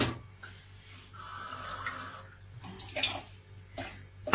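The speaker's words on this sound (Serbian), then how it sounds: "uzeli smo malo vode u šolju i tu ćemo staviti jedan želatin" Cold water is poured into a small cup to soften gelatin for a cheesecake, with a soft splashing, trickling flow that swells and fades in uneven bursts at close range.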